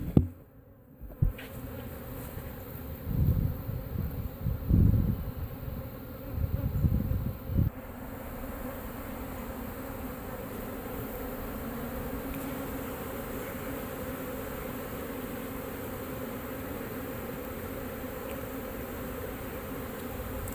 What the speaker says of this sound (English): As you can see, there's a lot of bees